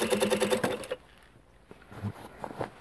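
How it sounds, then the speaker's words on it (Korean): A sewing machine stitches with a doubled bobbin thread, giving a dull, rapid run of needle strokes for under a second before stopping, followed by faint handling clicks and rustles. "이 또한 밑실이 두 겹이니까 소리가 보통 미싱할 때보다 경쾌하지는 않습니다."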